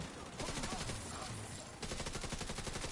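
Automatic gunfire in the video game The Division 2 rattles in dense, loud, continuous bursts with barely any gaps.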